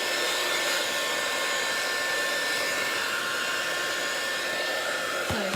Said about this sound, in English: I'm gonna melt that a minute with my heat gun